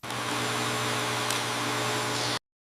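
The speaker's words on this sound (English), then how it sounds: "I clean the carpet with a vacuum." A vacuum cleaner drones steadily across a carpet, a loud continuous motor whine with a constant tonal hum that cuts off abruptly near the end.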